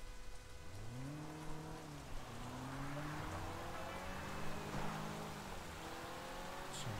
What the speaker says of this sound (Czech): no zase tady bude celou dobu pršet